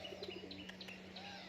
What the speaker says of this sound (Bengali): এই দেখো একটা নর পায়রা রয়েছে